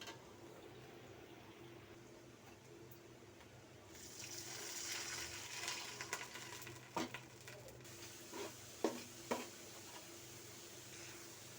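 Onions frying in a pan for bhuna khichuri give a soft, steady sizzle, joined by a few sharp clinks and scrapes of stirring toward the end.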